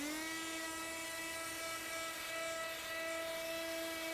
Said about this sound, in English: I do like this sander because it does keep all of the dust away.